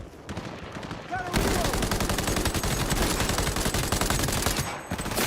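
Sustained automatic gunfire in the video game Cyberpunk 2077 roars in dense, rapid bursts after a short quieter opening, loud and close, with a brief voice heard early in the combat.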